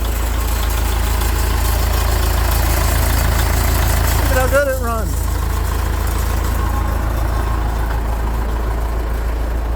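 An Austin Western 99H grader's engine idles with a steady, loud, low rumble that runs continuously, while someone talks briefly partway through.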